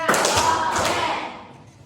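Two firm hand claps from a small classroom group follow each other about half a second apart, each ringing briefly in the room before fading.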